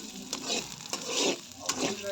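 Onions, curry leaves and garlic fry in a pan for a chicken dish, a soft close sizzle broken by a few stirring scrapes at a steady rhythm, quiet and without talk.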